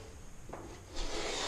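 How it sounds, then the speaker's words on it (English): Plaster is rubbed off a wooden door lining with a sanding block. It makes a short, close abrasive scratching that grows louder toward the end, with no voices. "And then carry on rubbing down."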